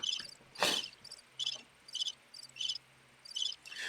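Crickets chirp in short repeated trills, a steady rhythmic pulsing of high-pitched bursts, with one brief louder noise near the start.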